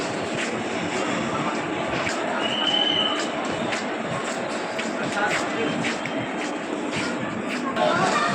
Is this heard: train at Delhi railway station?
yes